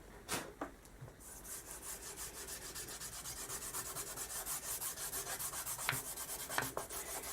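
A bar of polishing compound rubbed steadily onto a leather strop makes a continuous dry scraping rasp, a close, even back-and-forth rub that holds for several seconds with no voices.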